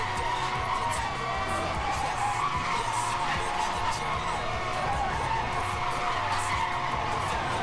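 Car tires screech and skid continuously as a car drifts through corners in the racing video game Need for Speed Hot Pursuit (2010), with engine roar beneath the squeal.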